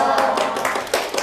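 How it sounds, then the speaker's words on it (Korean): A lecture-hall audience in a Korean real estate law class claps briefly, a quick burst of close, uneven hand claps lasting about a second. "웬 박수를?"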